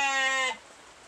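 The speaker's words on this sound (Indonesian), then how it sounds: "ini salah satu domba betina yang ada di kandang Budi Luhur" A ewe in a sheep pen gives one loud, close, harmonic bleat lasting about half a second, then it cuts off into quiet pen background.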